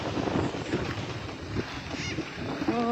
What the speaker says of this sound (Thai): ลมกลางทุ่ง